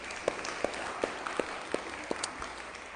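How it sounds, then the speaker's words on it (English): Scattered claps from a yoga class group welcoming newcomers, a handful of distinct hand claps at a loose, uneven rhythm over a quiet, airy room background, fairly faint and without talk. "let's start off with a warm round of applause."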